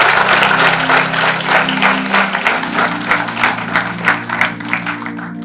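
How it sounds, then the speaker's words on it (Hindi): A seminar audience breaks into sustained applause, dense overlapping hand claps filling the room at a steady loud level from start to finish, with no talk over them. "एक बार ताली स्वयं के लिए"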